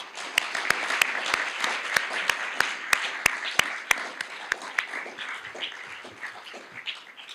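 Audience applause for award winners at a university business college alumni awards ceremony, a dense sustained clapping from a large crowd with sharp individual claps standing out, gradually thinning toward the end.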